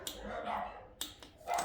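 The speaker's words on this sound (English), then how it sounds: "if you can hear me over the dogs" Dogs bark nearby in a garage setting during a C5 Corvette LS6 engine rebuild, a few sharp separate yelps over a steady background hum.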